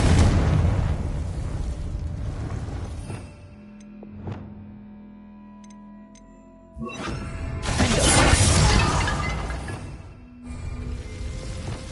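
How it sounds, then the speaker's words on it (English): Confringo spell blasts in the Hogwarts Legacy video game erupt in two loud bursts of shattering, rumbling explosions, separated by a quieter stretch with a faint tonal hum and a small pop. "Confringo!"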